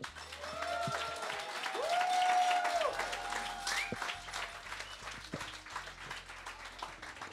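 A live podcast audience in a hall applauds, moderate clapping that swells and then thins out, heard alongside a host's amplified voice and some tonal sounds over the top.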